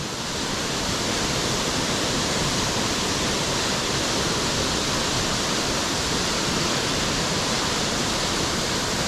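Steady, loud roar of the Laurel Falls waterfall, an unbroken wash of falling water holding the same level from start to finish, nothing else heard.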